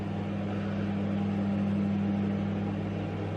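A microwave oven runs while heating a noodle bowl, a steady low mechanical hum with a constant drone, with no voices.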